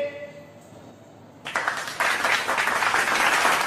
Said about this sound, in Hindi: जोरदार तालियों से स्वागत कीजिए प्रियंका दुबे हरदोई से